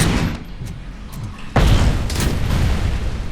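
A grenade explodes in the RoboCop: Rogue City video game, a sudden loud boom that breaks over a background rumble and then trails into a sustained roar of debris and noise.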